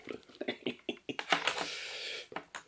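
Typing on a cheap Barbie computer keyboard, close-up clacking keystrokes in an uneven rhythm, with a brief sustained burst of hiss in the middle and no voices.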